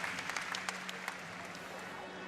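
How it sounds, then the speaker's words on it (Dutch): An audience applauds at a Frisian stallion inspection final, a dense sustained spatter of clapping that fades slightly over its length while a voice speaks over it. "Dames en heren, met applaus."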